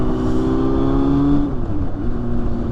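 A 2001 Yamaha FZS 600 motorcycle, fitted as a cafe racer, pulls away under hard acceleration, its engine note rising steadily in pitch, briefly dipping at a gear change, then climbing again, loud and close throughout.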